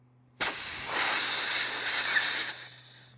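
Air hisses sharply out of an off-road tire's valve stem, starting abruptly and holding as one steady, close blast for about two seconds before tapering off.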